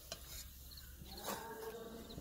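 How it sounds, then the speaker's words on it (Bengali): Oil sizzles and fries steadily at close range, with a low continuous crackle and a few faint clinks, as broad beans are fried in a home kitchen. "এইভাবে সবগুলো ভেজে নেব।"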